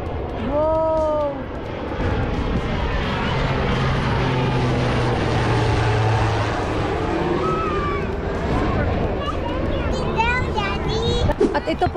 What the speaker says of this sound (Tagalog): Ayan, ang laki ng aeroplano.